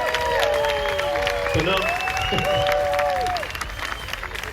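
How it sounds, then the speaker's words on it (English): A crowd at the Isle of Man TT races applauds and cheers for a French rider reaching the podium, a sustained clapping wash running beneath an announcer's voice and a whistling tone, thinning toward the end. "it deserves a round of applause"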